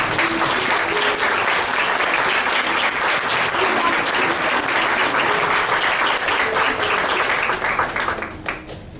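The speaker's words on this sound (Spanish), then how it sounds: "Bueno, un aplauso." A congregation applauds at a church baptism service, loud sustained clapping from a crowd filling the room for several seconds before tapering off at the end.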